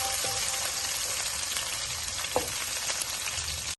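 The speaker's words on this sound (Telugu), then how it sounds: "గార్లిక్ వేగుతున్నప్పుడే కొన్ని పచ్చిమిరపకాయలు కూడా వేయాలి." Garlic and green chillies fry in hot oil as spaghetti is being made, giving a steady, close sizzle with a few light scrapes and pops.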